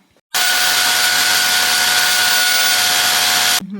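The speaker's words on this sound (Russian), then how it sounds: "Надо было взять сверло и делать дырку в стене." A power drill boring a hole into a wall whines loudly and continuously for several seconds at a steady pitch, then cuts off abruptly.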